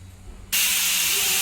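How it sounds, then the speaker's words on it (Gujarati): A pressure cooker in a home kitchen, used for cooking idli, suddenly lets off a loud, close, continuous rush of hissing steam that starts abruptly and holds steady after a quiet moment. "તો આપણે કુકરની 3 સીટી વાગી ગઈ છે"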